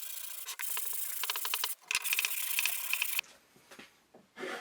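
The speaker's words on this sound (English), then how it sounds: "I'll give it a good sanding all over" Sandpaper rubs back and forth over a wooden hinged box, close scratchy strokes in quick bursts with short pauses and a few softer scrapes toward the end.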